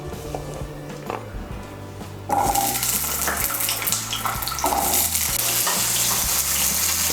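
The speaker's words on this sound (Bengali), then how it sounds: "এর মধ্যে আমি প্রথমে আলুগুলো ভেজে নেব।" New potatoes frying in white oil in a wok, a loud, steady sizzle that jumps up sharply partway through, with utensil scrapes and faint background music throughout.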